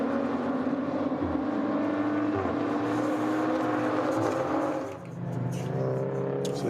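Porsche 718 Cayman GT4 race cars on the Nürburgring during an endurance race, engines roaring steadily loud with shifting pitch as they pass, a brief dip then the drone resuming.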